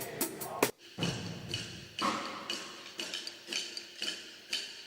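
A single drum beat in a room arrives repeatedly as it reaches several microphones in turn, a series of moderately loud thumps spaced about half a second to a second apart.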